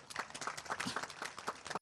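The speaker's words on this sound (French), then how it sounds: "Je vous demande d'applaudir, monsieur le directeur général." An audience applauds at a staff ceremony for former RTI workers, a steady patter of clapping that fills the clip at moderate level before cutting off abruptly.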